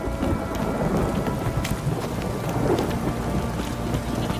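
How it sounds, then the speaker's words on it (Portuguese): Steady heavy rain pours with rolling thunder rumbling underneath in a Witcher 3: Wild Hunt storm scene, a dense continuous wash of drops with no talk. "Se essa chuva não parar, meu rabo vai apodrecer."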